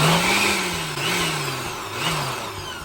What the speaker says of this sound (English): as you notice, I'm just pulsing right now